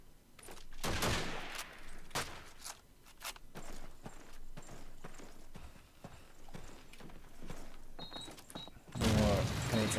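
Gunfire in a competitive video game match rings out as sharp repeated shots amid quick footsteps and clatter, with a louder burst near the end.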